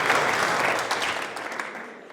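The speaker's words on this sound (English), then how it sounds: "How about a hand for both players, ladies and gentlemen?" An audience applauds both players at a 9-ball pool match at the Derby City Classic, a dense wash of clapping from a crowd that begins loud and gradually fades.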